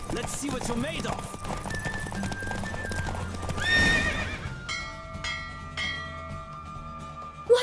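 A galloping horse in The Witcher 3: Wild Hunt pounds along with rhythmic clip-clop hoofbeats and a whinny amid game music, easing off near the end as the ride slows.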